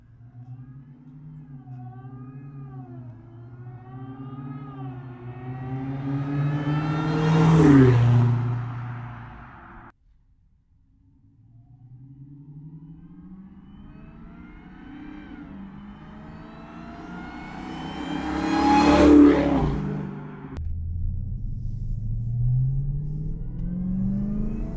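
A Dodge Hellcat fitted with a Legmaker intake revs in two short bursts, each rising to a loud peak with a whine sweeping up in pitch before cutting off and settling back to a throaty idle.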